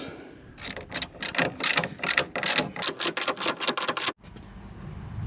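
A ratchet spanner tightens bolts on a Range Rover L322 front air strut, clicking in quick, close rapid bursts that speed up before stopping abruptly, followed by quiet workshop background.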